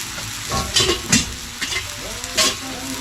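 Bamboo shoots stirred in a hot pan, with a spatula scraping in several separate strokes over a steady frying sizzle, close and moderately loud, and no voices.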